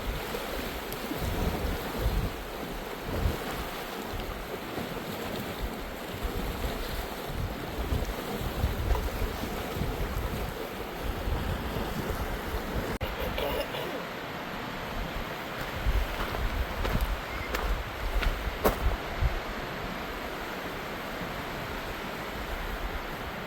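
Wind blowing steadily on a mountain trail, a loud broadband rush buffeting the microphone with gusty low rumbles throughout, no voices.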